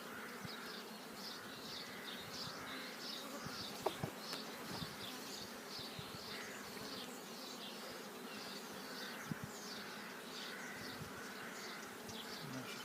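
A dense swarm of honeybees on hive frames buzzes steadily and close, a constant droning hum with no voices.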